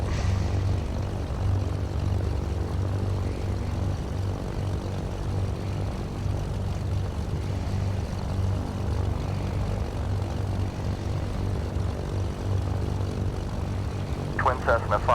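Twin piston engines of a Cessna 310 in Microsoft Flight Simulator 2020 drone steadily at a constant, close, loud pitch for the whole stretch, with a brief fluttery burst near the end.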